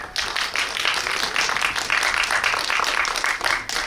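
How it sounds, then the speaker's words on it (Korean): A cinema audience at a talk event for the film 'The Savior' breaks into steady applause, a full, evenly sustained patter of many hands that swells slightly and fades near the end. "다시 한번 박수 부탁드리겠습니다"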